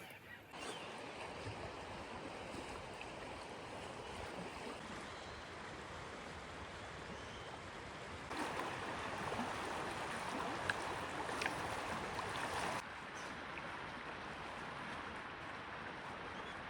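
Steady broadband rush of river water flowing beside a walking trail near Melbourne, continuous and moderately loud, swelling briefly louder midway before settling back, with no talk.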